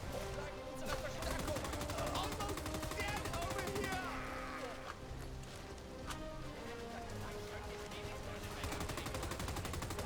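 Rapid gunfire from a RAID: WWII firefight rattles steadily in dense bursts, moderately loud amid battle noise, with a player talking over it.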